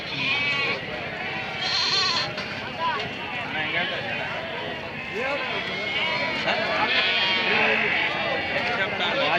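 Kenguri sheep bleat repeatedly and loudly at a crowded rural livestock and lamb market in Akki Rampura, with people talking throughout and farm-animal commotion around them.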